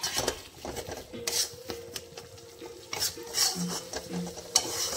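Duck egg pulao being sautéed and stirred in a pan, rhythmic rasping scrapes of a spatula against metal over a faint sizzle, close and intermittent.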